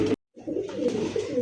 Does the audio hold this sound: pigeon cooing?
yes